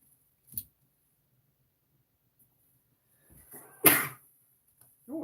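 A single sharp sneeze close by, breaking an otherwise quiet stretch with a few small noises around it.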